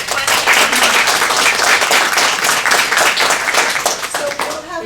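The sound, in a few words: audience applause after a presentation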